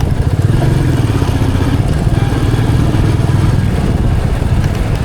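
A Royal Enfield Meteor 350 ridden at night on Hyderabad roads, its single-cylinder engine giving a steady, close thumping drone with a faint clattering vibration and rushing wind.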